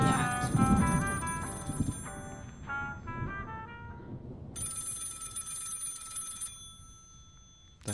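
A telephone rings in repeated electronic trill bursts, loud and close at first, then a brief gap before a sharper, thinner ring pattern returns, with no talking over it.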